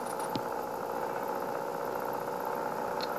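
A 2021 BMW 840 Competition engine runs at a steady, even hum with a low droning tone and no sharp revs, heard alone.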